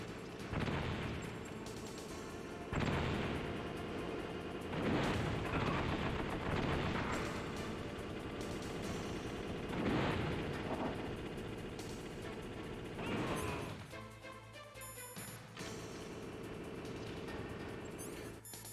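Stun grenades going off in the Metal Gear Solid video game, a run of heavy booming blasts that each swell and fade over a constant rumbling game soundtrack, ending in quieter electronic tones.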